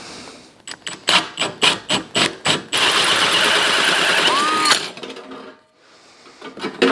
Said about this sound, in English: safety glasses on, 4-inch hole saw